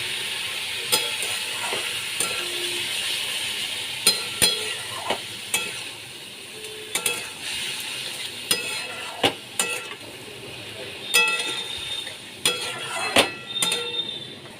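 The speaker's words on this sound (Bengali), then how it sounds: "একটু নেড়ে চেড়ে আমি সামান্য জল দিয়ে ঢেকে রাখবো" Small fish curry with coriander and green chillies stirred in a pan: a series of sharp metallic spatula scrapes and knocks at an irregular pace over a low sizzle, close, with no talking.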